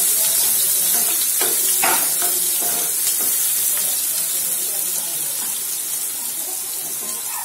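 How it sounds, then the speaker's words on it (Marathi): Chopped onion sautés in a pan for an aloo baingan sabzi. A loud, steady hiss of frying continues throughout, with a few soft stirring scrapes early on. "कांदा चांगला परतवून घेऊया."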